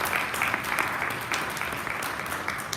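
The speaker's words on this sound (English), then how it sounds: "So give yourselves a round of applause." An audience at a caregiving community conversation event breaks into sustained applause, a dense steady wash of clapping from many hands at moderate distance.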